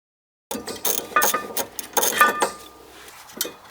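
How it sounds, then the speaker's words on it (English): A hand ratchet and socket, on an extension, loosen the rear brake bracket bolts behind the sway bar link of a 1992-2001 Toyota Camry. It makes close, uneven runs of metallic clicking with a few sharp clinks, and no one speaks. "you can hopefully use a ratchet and a socket. You might need an extension for this one"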